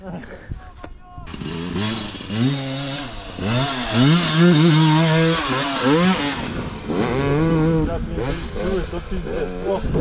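A KOVI 300 Pro two-stroke enduro motorcycle of 56 horsepower revs hard close by, its engine pitch climbing and dropping in repeated surges as the throttle opens and the gears change.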